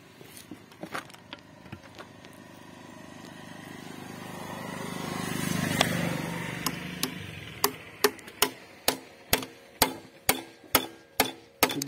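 Sharp metallic hammer blows drive a greased hanger bush into a scooter, a few scattered taps early, then a steady run of about ten evenly spaced loud strikes near the end over low workshop noise.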